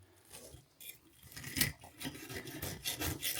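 A knife saws through a crisp breaded fish cake with a cheesy melting centre, giving faint rasping, scraping strokes that grow a little louder partway through, with no talking.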